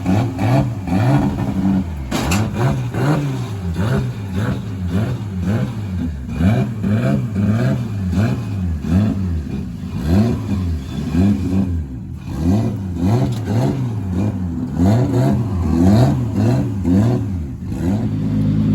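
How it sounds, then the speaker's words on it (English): A Nissan R32 drift car with an RB25DET Neo engine rumbling at idle in a dyno shop, with a loud steady lumpy rumble that swells and dips in a regular rhythm throughout. "As you can see the car over in the background rumbling away."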